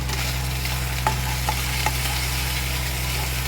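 Ginger frying in a pan gives a steady, dense sizzle, with a low hum beneath it and a few faint scrapes of stirring.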